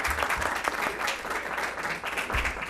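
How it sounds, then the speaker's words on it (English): Board meeting attendees clap to welcome a newly introduced director, a moderate burst of many hands with distinct individual claps, steady through the short stretch and alone without talk. "We can clap."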